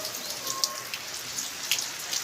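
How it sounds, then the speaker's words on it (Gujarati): Monsoon rain falling in a village, a steady soft patter of drops on surfaces with a few brighter splashing taps standing out, fairly quiet and even throughout with no voices. "મજા થઈ ગઈ બરાબર વરસાદ આવ્યો એટલે ઠંડક પણ થઈ ગઈ"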